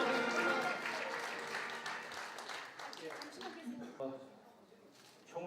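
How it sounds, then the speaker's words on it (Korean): Applause from an audience at the inauguration ceremony of a new president of the Busan chapter of the Korean Palgakhoe association, steady and moderately loud at first, then thinning out toward the end with a speaking voice over it. "큰 박수 부탁드립니다"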